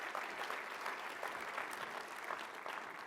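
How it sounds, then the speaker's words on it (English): A seated audience at a speaking event gives a short burst of applause, a steady, even patter of many hands clapping at moderate volume, with no voices over it. "So give these guys a hand of applause real quick."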